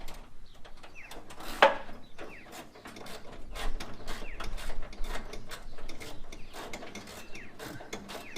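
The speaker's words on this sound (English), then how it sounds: "so I'll go down to my tiny socket set" A tiny ratchet from a small socket set turns a radiator bolt in rapid bursts of fine clicking, close-up and moderately quiet, with short pauses and a few metallic knocks between strokes.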